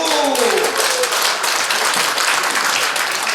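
Audience applause at a church gathering in Korea, a dense, loud burst of clapping filling the whole moment, with voices mixed in at the start.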